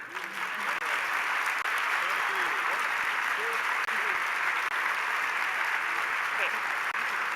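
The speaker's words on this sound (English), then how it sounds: "how about one round of applause for Chelsea Clinton, everyone?" An audience applauds steadily for a guest at an event, a dense, continuous clapping that holds at an even level throughout, with faint voices mixed in beneath.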